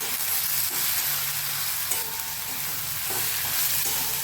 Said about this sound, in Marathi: पण बोंबील बटाटा 2 मिनटं परतून घेतला आहे